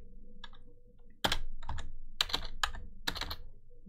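A computer keyboard being typed on while entering a command into the PowerShell ISE command line, giving a few quick clusters of close, crisp keystrokes over a low background hum.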